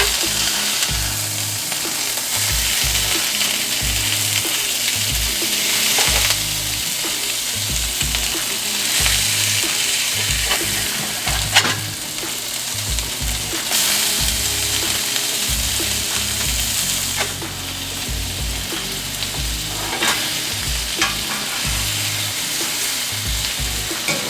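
Salisbury steak patties frying loudly in a pan, a steady continuous sizzle with scraping and stirring noises as a spatula flips them, no voices over the cooking.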